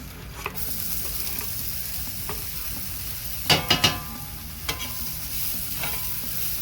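Red onion sizzles in a pan used for blackened Cajun salmon, a steady bright frying hiss with a brief clatter of stirring utensils near the middle.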